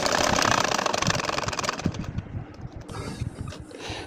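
A sewing machine threaded with double thread on top runs in a fast, even needle rattle, close and loud, then slows into separate stitch taps and brief pauses toward the end.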